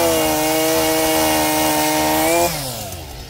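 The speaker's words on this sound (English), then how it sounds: "Now Rachel is nipping up all the little branches." A small chainsaw, run by a novice operator, cuts branches off a rotten felled tree on a homestead, its steady high buzzing engine note loud and close, then dropping in pitch as the cut ends near the finish.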